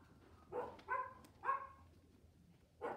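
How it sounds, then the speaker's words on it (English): A dog gives four short, muffled barks or yelps at uneven intervals, sounding somewhat distant and faint against a quiet indoor background. "speaking of dogs barking, there's one."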